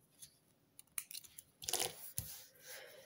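Quiet snips of scissors trimming thread after cross-stitch embroidery, a few soft irregular cuts and rustles close by.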